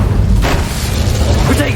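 An Incendio fire spell goes off in Hogwarts Legacy, a single muffled whooshing burst over a low rumbling game background, with a voice speaking briefly.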